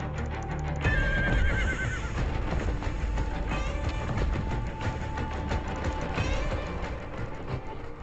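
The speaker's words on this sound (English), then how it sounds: "These strong Altai horses, although bred by herders, have retained their wild nature." Several Altai horses kept by Kazakh herders neigh and whinny loudly over a busy background of hooves and movement, calls rising and falling repeatedly throughout.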